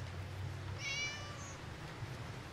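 A cat gives one clear, drawn-out meow near the middle, rising then fading, fairly close, over a low steady hum of room noise with no talking.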